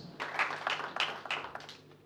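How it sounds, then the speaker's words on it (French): An audience applauds at a ceremony, with scattered, fairly faint claps in an irregular rhythm heard from a distance over about two seconds. "Je pense que nous leur devons les applaudissements."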